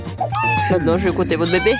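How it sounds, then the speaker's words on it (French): A cat meows in a house, clear and close, with its cries rising and falling over a running stretch of French talk. "Pourquoi elle miaule?"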